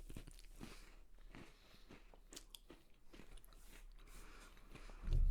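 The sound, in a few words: crunching pumpkin spice Goldfish graham crackers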